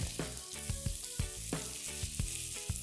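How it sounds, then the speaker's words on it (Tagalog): Beef sizzles and fries steadily in hot oil in a pan for beef and broccoli, with continuous close crackling and periodic stirring scrapes, no voices. "Magdadagdag lang ako ng mantika. I-spread out natin ulit ito at ilagay na natin dito yung beef."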